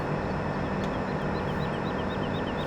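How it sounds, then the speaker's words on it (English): A train running in Farming Simulator 17, a steady engine rumble with rhythmic wheel clatter, continuous and fairly loud throughout. "you guys are going to have to get really good with starting and stopping this train"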